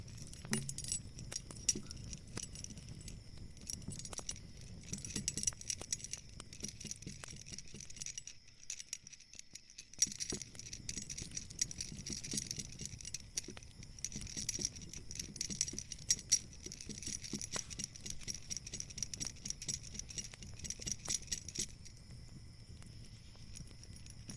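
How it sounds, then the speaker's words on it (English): A ring of keys jingles and clinks close to the ear in a quiet room, in soft, repeated metallic shakes that continue with a short pause partway through. "I can tell the shape of those keys by how they jingle."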